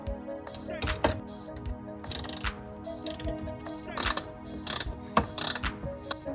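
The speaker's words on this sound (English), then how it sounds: "we're going to undo these 4 bolts right there" A ratchet works loose four bolts on a Toyota MR2 intake, producing rapid metallic clicking bursts and clanks in irregular spurts, close and fairly loud.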